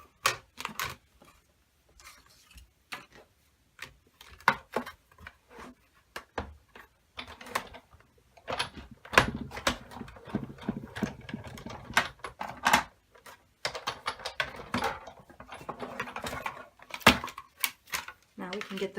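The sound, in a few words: Big Shot die-cutting machine embossing card with brick folder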